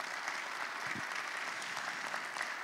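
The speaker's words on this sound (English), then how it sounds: "How about a final applause for our great kid?" Audience at a high school vaping awareness night gives a final round of applause, steady and fairly faint clapping from a crowd in a hall, without speech.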